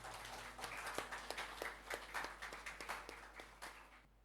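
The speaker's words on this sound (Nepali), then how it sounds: "ताली बजाएर स्वागत गर्नेछौँ" A church audience claps to welcome a pastor at a child dedication program, with quiet, scattered hand claps in an uneven rhythm that thin out near the end.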